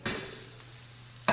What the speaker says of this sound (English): I put the steak in.